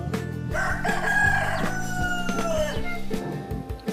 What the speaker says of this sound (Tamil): சேவல்.